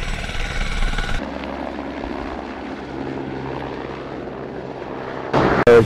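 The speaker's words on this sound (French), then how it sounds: "L'hélicoptère était indispensable pour acheminer le matériel des plongeurs" A helicopter ferrying divers' equipment into a remote valley, its steady rotor and engine drone holding loud throughout, with a brief sharper burst near the end.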